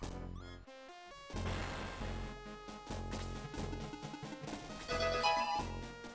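A phone ringing during a Shining Force game stream, a melodic electronic ringtone playing in repeated tonal phrases, fairly quiet and alone.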